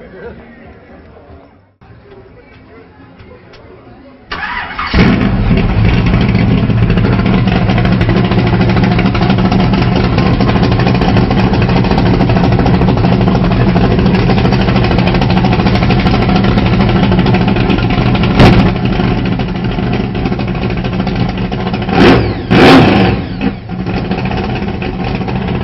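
A drag race car engine at a car cruise show fires up after a few quiet seconds, then idles and revs loudly and roughly close by, with sharp blips of throttle near the end and people talking around it.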